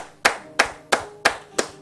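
Hands clapping: five sharp, evenly spaced claps, loud and close, with no other sound.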